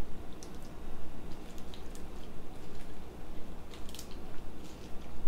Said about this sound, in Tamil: கீரையை சேர்த்துட்டு இதை வந்து நல்லா தண்ணியில் வந்து இப்படி அமுத்தி விட்டுக்கோங்க.